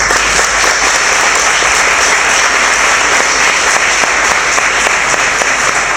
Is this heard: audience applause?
yes